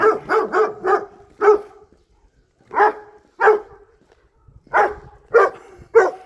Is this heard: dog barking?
yes